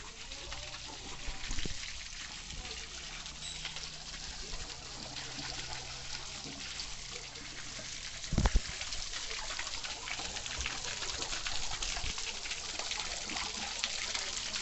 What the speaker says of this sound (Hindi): यहीं का नेचुरल पानी पूरा यहाँ जाके नाग देवता के मुंह से निकलता है। नेचुरल पानी को पाइप से जोड़ा गया है।